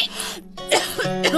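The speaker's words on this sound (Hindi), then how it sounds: "क्या हुआ बहू, इतनी खांसी?" A woman coughing in a short domestic scene about tuberculosis, two or three harsh close coughs in quick succession with throat-clearing, loud and alone without other sounds.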